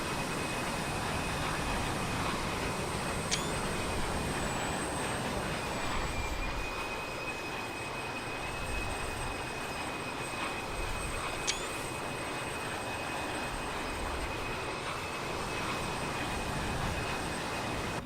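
Engines of an Aer Lingus Avro RJ85 jet in Microsoft Flight Simulator 2020 produce a steady, even drone with a faint high whine above it, holding constant throughout with only brief clicks and no talk.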